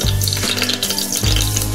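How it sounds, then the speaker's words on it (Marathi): Oil goes into a hot pressure cooker for pav bhaji and sizzles loudly and close, a steady crackling fry with a low hum that dips briefly in the middle. "कुकर चांगला गरम झालेला आहे। आता आपण तेल टाकूया।"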